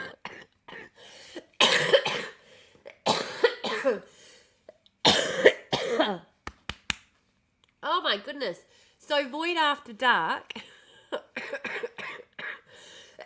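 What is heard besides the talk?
coughing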